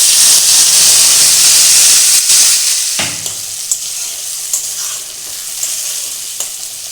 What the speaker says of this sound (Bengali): এখন এতে আমি এই মশলার পেস্টটা দিয়ে দেবো